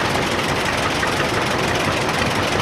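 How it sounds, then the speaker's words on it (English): A 1931 John Deere GP tractor engine runs steadily at a parade, a dense, continuous broadband rumble with no pauses, loud and close throughout. "Next is a 1931 John Deere GP, which I believe stands for General Purpose."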